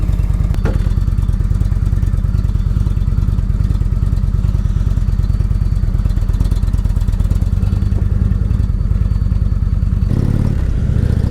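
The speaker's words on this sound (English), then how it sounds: "last time starting this bike." A motorcycle engine idles steadily and loudly close by for the whole stretch, with a brief change and rumble near the end as it revs or shifts.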